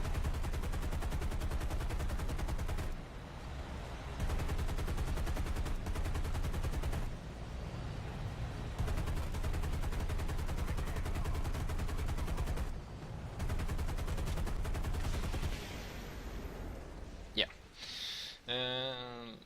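Defensive machine guns of a B-17 bomber's gunners in War Thunder rattle in long sustained bursts, loud and continuous with brief pauses, ending in a few sharp whooshing effects.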